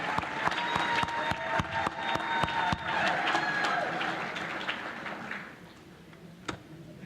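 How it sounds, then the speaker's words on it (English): An audience at a chamber of commerce annual meeting and awards event applauds someone being honored; clapping is moderately loud at first, with distinct sharp close claps, then thins out and fades, leaving a few scattered claps near the end. "I think he deserves another round of applause."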